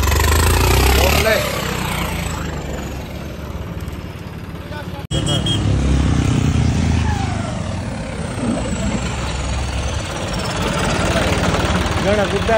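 A New Holland T7.210 tractor engine running with a steady, loud low rumble, briefly cutting out and then resuming, with faint whining tones over it.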